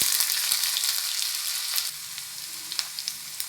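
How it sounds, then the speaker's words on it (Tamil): Mustard seeds and urad dal spluttering in hot oil, a continuous close frying sizzle scattered with sharp little pops and crackles throughout. "கடுகும் உளுந்தும் பொரிஞ்சு வரட்டும்."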